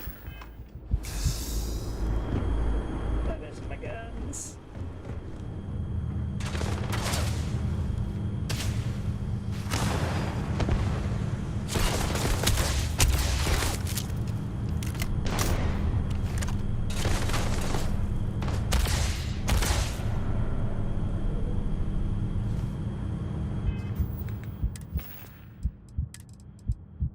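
Player's guns firing in the video game Starfield, a sustained series of heavy booming shots and bursts over a low rumbling game soundtrack, loud and close.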